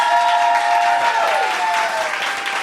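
Audience applause at a French-language film quiz show, given as a vote: a thick, even wash of clapping with a faint sustained tone underneath, fading a little as it ends.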